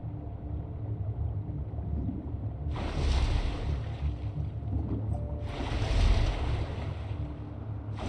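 Ocean waves in What Remains of Edith Finch roll in twice as loud, near swells of surf over a low, constant wash of water and wind, with no talking.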